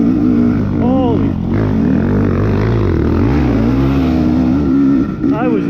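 A 2020 KTM XC250 TPI two-stroke dirt bike lugging up a steep hill in second gear, its engine droning steadily loud and close with pitch rising and dipping as throttle changes, a rider's voice over it.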